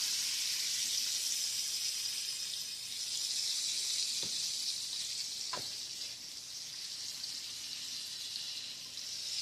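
Chicken liver hamburger steaks fry in a pan with a soft, steady hiss that holds at an even level. Two brief clicks break through partway. No one speaks.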